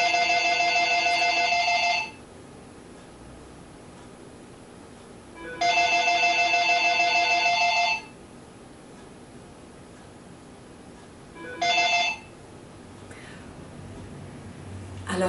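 A telephone rings in three bursts, two long rings about two seconds each and a shorter third, loud and close, with quiet room hiss between rings.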